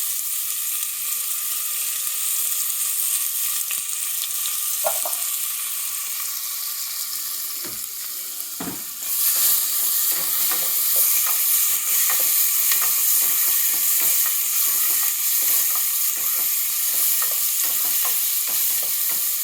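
Onion, ginger and garlic fry in a pan with a continuous bright sizzle, growing louder partway through, as a spoon scrapes and stirs in quick repeated strokes.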